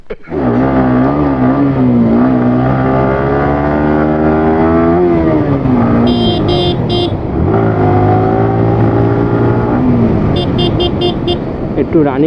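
A Yamaha R15 motorcycle revs loudly up close on a city ride, pitch rising and falling through throttle changes, with brief horn toots partway through and at the end, and voices over the engine.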